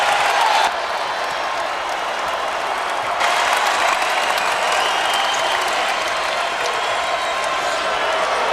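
Basketball arena crowd roaring and applauding after a great play at Arizona against Arizona State, a dense sustained wall of cheering that swells partway through and stays loud to the end.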